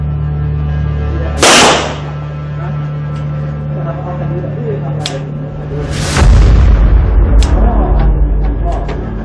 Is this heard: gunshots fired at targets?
yes